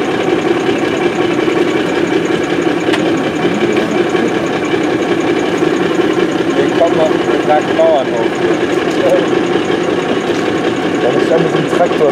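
Old diesel locomotive engine running steadily at a museum summer festival locomotive parade, a continuous rough, knocking idle like an old tractor, heard nearby with people talking over it throughout.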